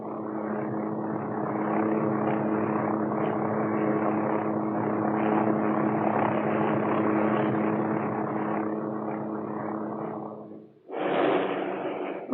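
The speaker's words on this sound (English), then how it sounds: "The OH-6 cruise speed is fast compared with other light helicopters." A Hughes OH-6 Cayuse light helicopter in flight: a loud, steady rotor and turbine drone with a constant tonal hum, which briefly dips and then swells back near the end.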